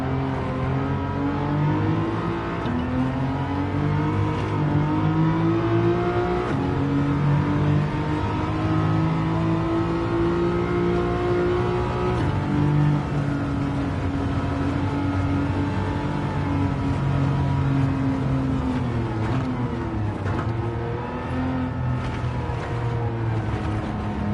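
A 1973 BMW CSL fitted with a swapped factory engine in Gran Turismo 7, a loud continuous engine drone whose pitch slowly rises and falls across the whole stretch, with no voices.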